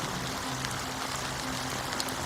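Steady rain falling in Penacony in Honkai Star Rail, a soft, even hiss of drops on surfaces with faint low tones underneath, continuous and quiet throughout.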